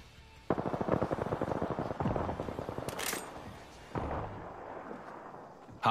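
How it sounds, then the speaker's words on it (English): A twin-barrel full-auto SMG fires in a video game in two long, rapid bursts of sharp, close, loud shots, followed by a brief burst of noise and a single heavier blast near the end. "Twin barrel full auto SMG."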